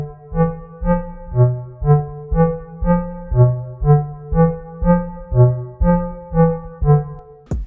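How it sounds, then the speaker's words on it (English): A toothbrush sample pitch-shifted into a repeating melodic pattern, treated with an EQ sweep and distortion, plays as a steady rhythmic loop of buzzy tonal pulses roughly twice a second, loud and alone, ending on a sharp burst. "So right now the toothbrush sounds like this."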